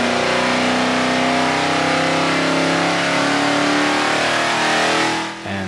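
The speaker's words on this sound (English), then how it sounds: "The following car was David Brooker's 1968 Camaro." A 1968 Chevrolet Camaro engine revs hard on a chassis dyno at a garage dyno day, a loud, close, sustained roar that cuts off abruptly at the end.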